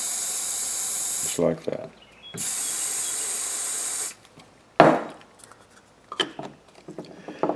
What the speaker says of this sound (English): Spray me out a nice big pool of this stuff.